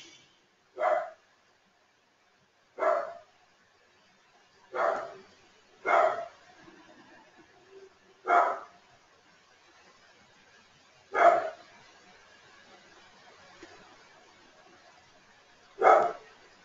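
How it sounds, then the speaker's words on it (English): A pet dog barks indoors in single sharp woofs, seven of them spaced a couple of seconds apart, moderately close and standing alone against near silence. "And I really must apologise about my dog Ziggy and his barking."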